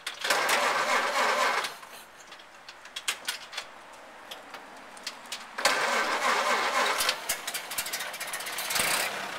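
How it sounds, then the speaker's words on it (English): A 1931 Ford Model A engine, last driven sixty years ago, is cranked in two bursts. Each time it catches with a rough, rattling run, and quieter clicks and knocks fall between the attempts. "it probably will start without choking"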